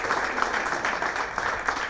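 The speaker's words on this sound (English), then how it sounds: "We all give them a round of applause for being here" A round of applause from the audience at a university wall unveiling ceremony, an even wash of many hands clapping at mid distance throughout, with no talking over it.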